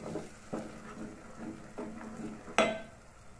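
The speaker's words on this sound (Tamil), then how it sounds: "எல்லாத்தையும் நல்லா வதக்கிடலாம்." Spices and masala sautéing in a pan for a Tamil-style crab gravy, with soft stirring and scraping clinks recurring every half second or so, a sharper utensil knock near the end, and a faint frying hiss beneath.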